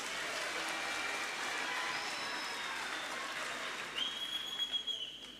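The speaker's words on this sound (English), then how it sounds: "May you give them a warm round of applause." Audience applause at a Tshwane University of Technology graduation ceremony, soft and distant, a steady wash of clapping that swells briefly near the end with a faint high tone.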